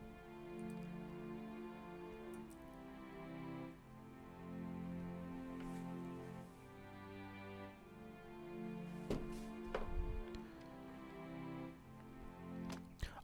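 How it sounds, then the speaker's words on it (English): A sampled cello ensemble string patch plays sustained, bowed chords that shift every couple of seconds, soft and smooth, with a few faint clicks near the end. "Yeah, it's the cello ensemble."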